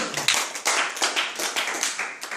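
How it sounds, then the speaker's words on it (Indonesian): A short burst of applause, several people clapping quickly and unevenly, loud and close, with no talking. "tepuk tangan buat Keling"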